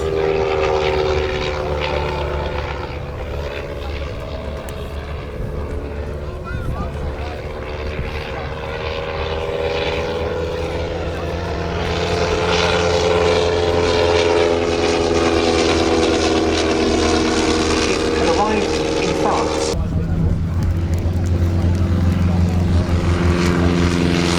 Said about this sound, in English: Harry Hawker actually did multiple loops on his maiden flight in the aircraft